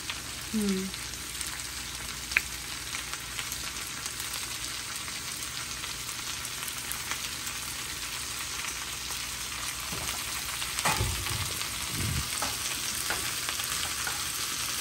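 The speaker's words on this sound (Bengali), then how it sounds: "এগুলো একদম লাল লাল করে ভাজা করতে হবে" Long beans with curry leaves fry in an open pan with a steady, dense sizzle throughout. A few scraping stirs are heard close up near the end.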